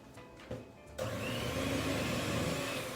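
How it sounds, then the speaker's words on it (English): An electric mixer on low speed beats cubed butter into Swiss meringue buttercream, starting with a faint whir and a soft knock before a steady, fairly quiet motor drone settles in for the rest. "the mixer is at a low speed for this"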